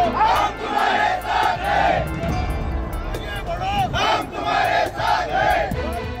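Supporters celebrate a BJP win in the Anagar Nagar Panchayat election in Mohol taluka, Solapur, with a loud outdoor crowd roaring and chanting in repeated rising surges, backed by continuous hubbub.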